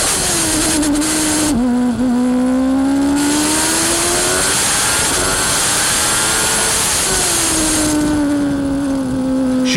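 1993 Formula 1 race cars, a Benetton chasing a McLaren, scream past with loud, high-pitched engine whine that rises and falls in pitch as they approach and pull away, continuous and dominating throughout.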